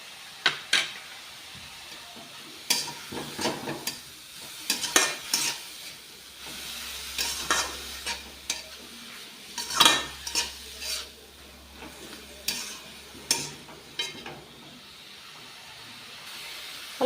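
Salt, chili powder and a spoon of cumin sizzle softly in a cooking pan while a spoon stirs and taps against it in scattered scrapes over a faint steady hiss.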